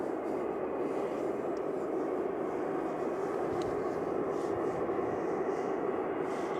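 Jet2 Boeing 737-800 bound for Tenerife taking off at Manchester Airport, a steady broad jet roar held at even loudness throughout, heard from a distance with no pauses.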